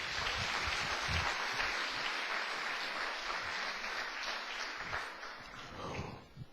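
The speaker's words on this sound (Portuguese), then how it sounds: "dão uma salva de palmas para o Senhor Jesus" A church congregation applauding during a sermon, a dense, steady wash of many hands clapping that holds for several seconds and tapers slightly at the end, with no talk over it.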